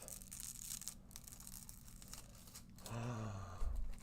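Foil is peeled off a surface coated with foil-reactive embossing powder, producing soft crinkling and tearing rustles, quiet and close, swelling louder toward the end.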